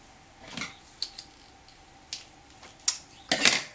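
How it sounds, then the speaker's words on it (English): Scissors snipping lace material for a basket, a few scattered, faint crisp cuts with soft pauses between, the last cuts slightly louder and closer together. "The scissors are a bit dodgy."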